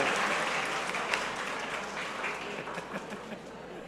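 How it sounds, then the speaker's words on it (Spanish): Audience applause for fathers who changed diapers at a Father's Day gathering: a continuous, fairly distant patter of many hands clapping, steady throughout without voices standing out. "un aplauso para estos papás cambiadores de pañales"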